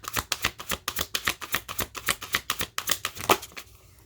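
Oracle cards shuffled by hand in a quick, steady run of soft papery riffling slaps, about four per second and close up, ending in a louder snap and a brief quiet.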